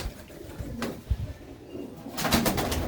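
Pigeons coo softly nearby with low, throaty calls, along with some rustling and a couple of brief flutters.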